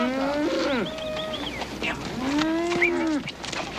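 Cattle being herded toward a truck let out two drawn-out moos, close and fairly loud, with a short pause between them.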